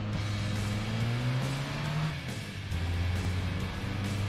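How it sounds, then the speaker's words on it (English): A race car engine in the Gran Turismo 2 video game revs and drones with a steady low tone that rises in pitch, dips briefly, then holds again, loud and close. "I need to get ready to build up the revs, don't I? I'm holding down X now."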